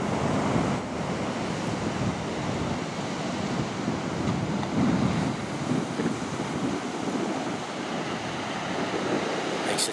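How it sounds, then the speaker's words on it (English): Big ground-swell surf washes up and over a sandy beach berm in a steady, loud, continuous roar of breaking waves and rushing water, with some wind noise buffeting the microphone. "A lot of water coming up over the berm."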